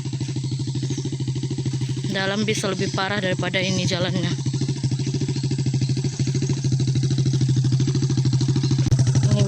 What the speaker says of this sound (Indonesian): motornya itu dibawa ke dalam ya